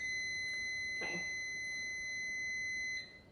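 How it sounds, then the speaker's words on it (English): Kitchen timer going off during apple processing for applesauce: a faint, steady high electronic beeping tone repeating in the background of a quiet room, with a soft clatter partway through. "My timer just went off to put the trays in freeze dryer."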